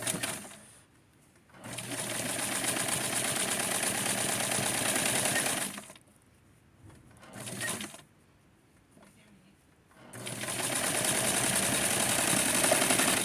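A sewing machine stitching a dress hem, running in loud, steady bursts separated by brief quiet pauses, close to the listener.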